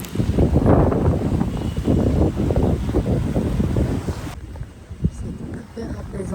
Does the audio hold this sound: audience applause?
no